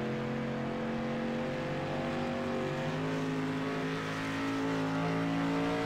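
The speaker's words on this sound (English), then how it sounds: "You go in car and listen, the gearing is completely different between the two cars." Dirt late model race cars at Eldora Speedway roar past with sustained high-revving engines, several cars layered in a loud steady drone that swells slightly toward the end.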